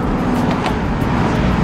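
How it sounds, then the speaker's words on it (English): A car engine running steadily from inside the cabin while driving, a loud low drone with no talking over it. "This car sounds good."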